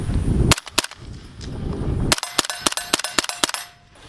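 Several suppressed gunshots from a B&T Print X SD suppressor in its short configuration with a vented end cap, sharp cracks coming singly and then in a quick irregular string, loud and close with brief decay.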